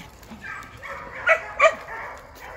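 A dog gives two short, sharp yips close by, separated by a brief pause, over quiet background noise.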